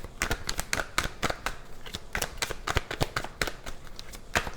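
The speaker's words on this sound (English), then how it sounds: "I've been shuffling these cards for 7 minutes." Tarot cards being shuffled by hand, a quick run of crisp papery riffles and taps that comes in uneven bursts, close and fairly quiet, with no talking.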